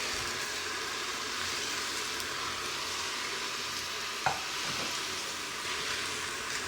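Peppers sizzle and fry inside an automatic stir fry robot, a loud, steady crackling hiss close by, with a single sharp clink of the stirring mechanism midway.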